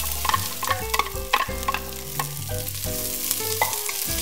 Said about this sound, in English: once the seeds are nice and toasty and brown and sizzling, you're gonna add your 1 cup of chopped onion